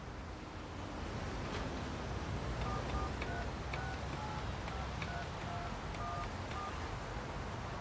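An old-fashioned phone has a number dialed on it in the 13 Sentinels: Aegis Rim video game. A series of faint, evenly spaced dial tones sounds over a loud, wind-like wash of background noise.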